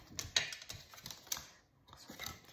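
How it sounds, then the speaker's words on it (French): A bone folder scores two folds into paper for an accordion card, a faint, close series of light scraping taps and rubs in short irregular strokes. "à l'aide de mon plioir, je vais venir donc marquer mes deux plis"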